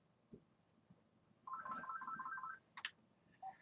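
A phone ringtone plays during a Star Wars merchandise livestream, a short repeating electronic melody of about a second followed by a brief higher chirp, fairly faint against a quiet room background.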